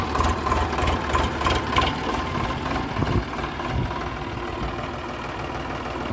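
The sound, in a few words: Sonalika tractor engine running while reversing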